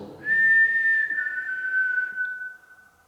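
A single person whistles one clear, sustained note that slowly slides lower and fades out over about three seconds, recorded in a quiet, echoing mansion interior.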